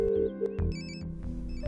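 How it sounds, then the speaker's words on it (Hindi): A mobile phone ringtone plays a short electronic melodic pattern with repeating tones over a low background hum, fairly close and clear. "रिंग जा रही है"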